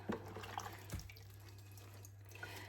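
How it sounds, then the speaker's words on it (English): Light warm water runs from a tap while fine porcelain with gold trim is being washed, a soft steady trickle with a brief splash near the start, fairly quiet. "I am using just very light warm water"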